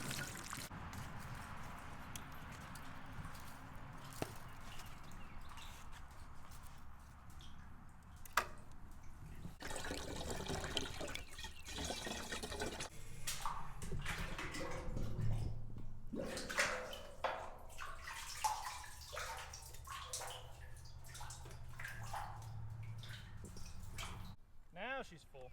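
Water drawn from a well fills a container, with drips, trickles and splashy pouring at close range, and a voice heard faintly at times.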